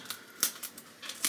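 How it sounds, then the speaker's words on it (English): Scissors snip and crunch through packing tape on a package, several quick sharp cuts with crinkling in a short close burst. "Use the scissors to cut here so you don't break it."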